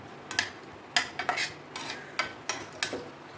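Onion and a single tomato stirred in hot oil in a pan, heard as a spoon scraping in repeated close, bright strokes over a faint background sizzle, with no voices.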